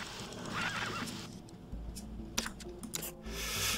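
A horse in the survival video game Sheltered whinnies loudly and near, followed by snorting, hoof clops and shuffling movement noises.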